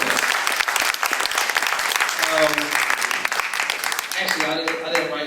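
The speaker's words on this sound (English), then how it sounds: "a big round of applause for Mr." Audience applause at a poetry performance, a dense, steady burst of clapping from a small crowd lasting several seconds, with a few voices faintly audible underneath.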